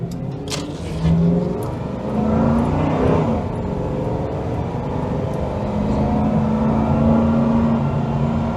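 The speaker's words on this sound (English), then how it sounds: "that's pretty brisk acceleration, quite revvy acceleration, with very light throttle pressure" A 2001 Ford Crown Victoria police car accelerates briskly on light throttle, its engine revving up in rising sweeps from inside the car, loud and continuous.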